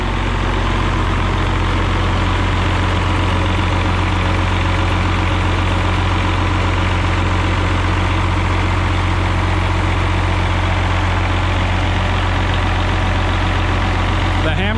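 A rebuilt White 2-155 tractor engine idles steadily and loudly, a constant low rumble that holds even throughout with no change in pace.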